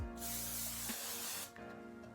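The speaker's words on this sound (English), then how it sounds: "let's take some hairspray because I have a lot of flyaways" Hairspray sprayed from an aerosol can onto hair to tame flyaways, one loud, close hiss lasting about a second and a half before cutting off.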